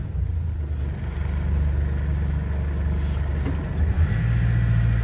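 Mazda BT-50 pickup engine running steadily with a low rumble as the truck rolls back and forth and stops, close and continuous with a slight shift in tone near the end.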